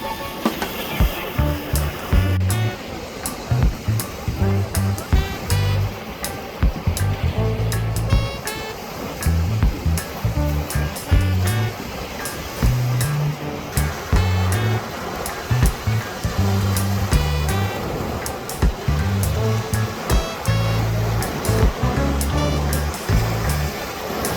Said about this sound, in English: allowing the waves to take away the stress of your day